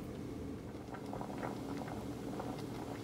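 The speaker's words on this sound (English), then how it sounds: "that didn't take long to come to a boil" Chipotle beans with a bay leaf boil in a pot, a soft steady bubbling and popping patter that carries on evenly at low volume.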